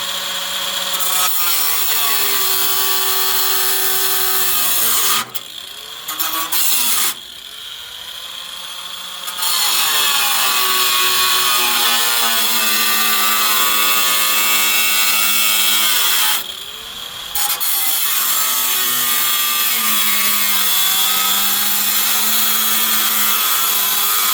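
Power saw cutting material during a golf cart build, a loud whining drone that dips and climbs again as the blade eases off and builds RPM, with brief gaps between passes.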